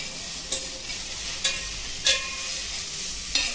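Vegetables sautéing in a pan on a low flame, a soft continuous sizzle broken by four brief stirring scrapes, close and alone with no talk.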